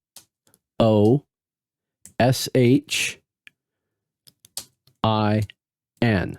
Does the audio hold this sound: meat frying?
no